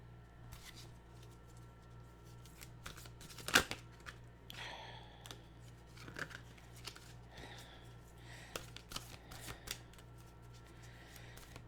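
Tarot cards being shuffled, heard as soft, faint riffles and flicks over a low steady hum, with irregular clicks and rustles and no talking.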